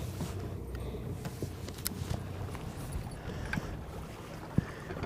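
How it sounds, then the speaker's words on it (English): Gusty wind buffets the open air on Lake Windermere during an evening bass fishing outing, a steady broadband rumble with brief knocks and one sharp thump near the end, no talk. "I don't know if you can hear me with this wind"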